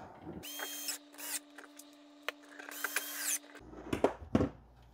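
M3 by 30 screws being driven into a 3D printer's MMU3 filament segmenter, a steady mechanical whir in two bursts with a low motor hum, followed by brief clicks and handling knocks.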